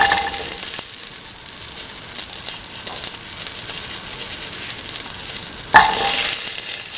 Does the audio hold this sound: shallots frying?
yes